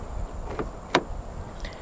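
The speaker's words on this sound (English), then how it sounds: "To lock the car, press the rectangle area on any of the 4 door handles." Locking a 2009 Audi Q5 2.0 TFSI quattro by touching the keyless door handle gives a single short sharp click of the lock mechanism, preceded by a faint softer tap, close by and quiet.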